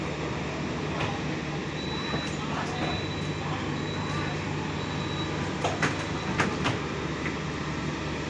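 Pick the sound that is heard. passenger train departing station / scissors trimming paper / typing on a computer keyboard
passenger train departing station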